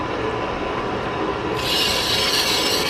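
A 4x6 metal-cutting band saw running after a blade tracking adjustment gives a steady loud mechanical whir with a rubbing, rattling edge that grows brighter and harsher halfway through, with no voices.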